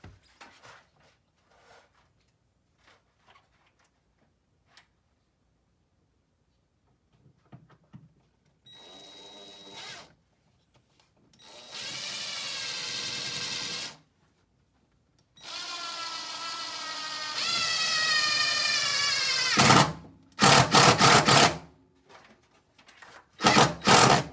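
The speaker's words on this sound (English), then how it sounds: "it comes with this self-drilling screw. So it's pretty simple, don't need to pre-drill." Several bursts of a power drill driving a self-drilling screw into a 2019 Subaru Forester, separated by quiet pauses, the later runs longer and louder, ending with short rapid spurts.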